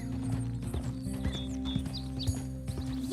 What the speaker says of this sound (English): Ride fast, Uncle Arthur.